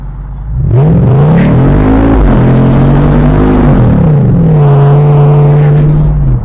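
Jeep engine revving and accelerating up close, loud rising and falling engine tones through gear changes, a steady powerful drone with no talk.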